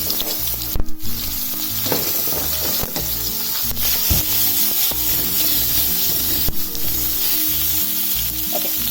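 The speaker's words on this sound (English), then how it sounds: "we have to actually add the zucchini and fry it till it is cooked a little." Zucchini fries in a hot pan with asafoetida, giving a loud, continuous sizzle broken by repeated scraping stir strokes and a few sharp clacks of the utensil against the pan, with no voices.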